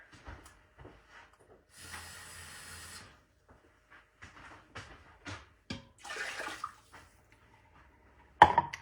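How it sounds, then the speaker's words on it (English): Water pours into a pot holding broth, chicken and rice in a brief hissing, splashing burst, followed by a second shorter gush, with small clinks and handling noises around them. "I'm going to fill the rest with water."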